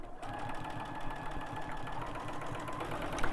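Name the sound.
sewing machine stitching fabric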